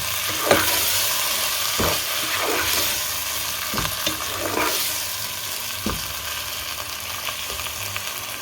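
Sliced onions and finely chopped medium tomatoes stirred in a pan for an onion-tomato salan, a steady sizzle broken by repeated scraping strokes of a spoon at close range, with no talk.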